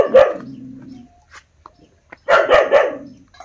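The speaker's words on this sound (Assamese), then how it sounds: "এই বৰ্তাহঁতৰ কুকুৰজনীয়ে মোক দেখিবই নোৱাৰে" A household dog barks close by in two loud bursts, a sharp bark followed by a pause with faint rustles and then a quick double bark.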